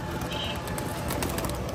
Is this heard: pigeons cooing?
yes